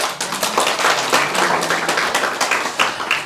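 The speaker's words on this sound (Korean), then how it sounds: "박수해야 되는 거 아니에요?" A church congregation breaks into applause during a sermon, a dense continuous patter of many hands clapping together in a large room, steady and fairly loud with no speech over it.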